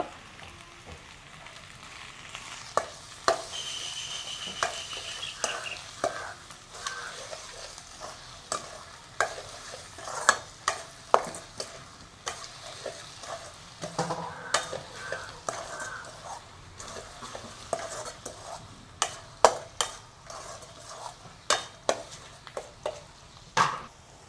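Onions and sugar sizzle and fry in a pan with repeated scraping stirs and clacks of a utensil, close and steady over a low hiss.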